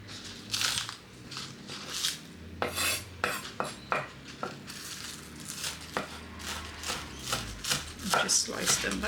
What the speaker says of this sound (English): Just slice them like that